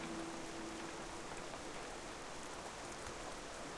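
World of Warcraft rainfall, a continuous gentle hiss of rain on the ground, faint and even throughout, with a brief thump at the very end.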